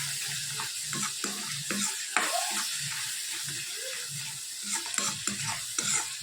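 Spice masala of red chilli powder, coriander-cumin, turmeric and garam masala being stirred in hot oil in a pan, a steady sizzle broken by repeated scraping strokes of the spoon, close and continuous.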